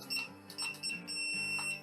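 A few short, high electronic beeps in quick succession from an FMS FCX24M 1/24 RC crawler's transmitter as throttle is raised, close up, with faint background noise between them.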